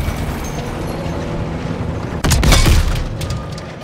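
A tank gun firing and knocking out a German Panzer tank in Call of Duty WWII: one loud, deep boom breaks through a rumbling battle background and fades with a low rolling tail.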